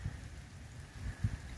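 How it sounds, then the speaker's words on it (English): Rain falls outdoors on a windy evening by a house decorated with Christmas lights, a constant hiss with soft low gusts buffeting the microphone. "It's kind of rainy and windy"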